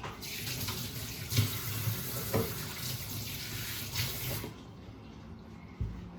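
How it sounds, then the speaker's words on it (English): Hands are washed under a running kitchen tap, a steady close rush of water with small splashes and shifts as the hands move, ending abruptly when the tap shuts off and leaving quiet room sound. "I'm gonna take and wash my hands quick."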